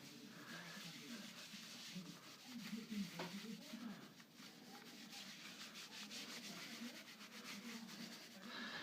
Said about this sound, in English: I apply the antique finish on sheep wool and then rub everything in with circular motions.